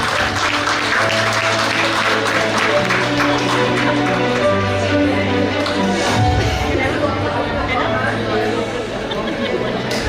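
An audience applauds at an award ceremony, steady clapping from a crowd that runs the whole time beneath chatter, shuffling and an announcer's voice, with music tones held underneath.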